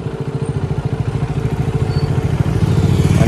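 A KTM Duke 200 motorcycle engine revs loud and close, a steady rapid pulsing throb that builds slightly in intensity, with no talk over it.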